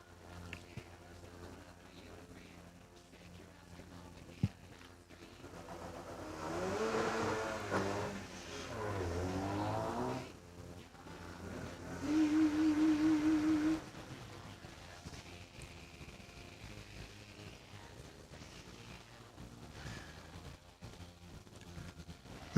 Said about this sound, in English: Lindsay Bear's Holden Commodore, you'll hear coming your way very shortly if you're at the top of the hill